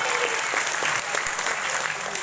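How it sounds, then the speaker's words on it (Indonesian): Steady applause from an audience at a school talk show at SMA Islam Ulumuddin Samboja, honouring Pak Haji Ilmi S.Pd, dense clapping sustained and loud throughout the short stretch with no break. "Sekali lagi kita beri tepuk tangan untuk Pak Haji Ilmi SPD."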